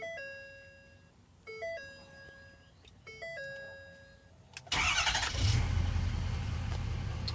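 After a few repeated chime tones from the dash, a Ford 6.7 diesel engine starts up and runs with a loud, close, rough rumble.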